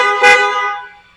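Stock horn of a 2026 Ford Everest Trend sounds in a single loud, steady honk of about a second, close by, then fades out.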